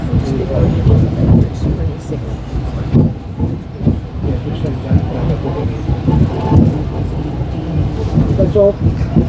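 A New South Wales passenger train to Sydney runs with a steady loud rumble and rhythmic rolling clatter, continuous throughout, with occasional voices mixed in.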